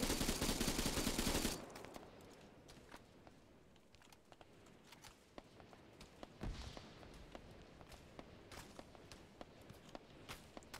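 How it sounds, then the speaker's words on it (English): Video game gunfire, with a dense, loud burst of shots at the start that gives way to scattered sharp cracks and impacts of bullets striking close by, repeating irregularly at a moderate level. "There's a lot of bullets, and it sounds like they're hitting nearby me."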